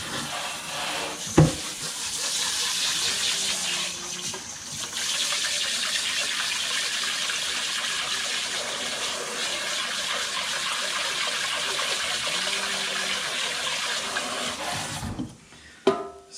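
Water runs steadily from a tap while rice is washed for yellow pepper rice, a continuous loud gushing stream with a few knocks and splashes at the start and end.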